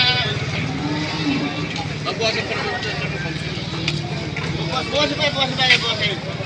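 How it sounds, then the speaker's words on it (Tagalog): Goats, a female and a male, bleat at a goat market before dawn, their wavering calls repeating near and far under the constant talk of people nearby. "Ito ay kambing na babae at lalaki."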